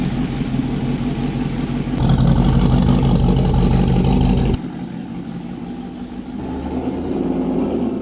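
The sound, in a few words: supercharged pickup truck engine running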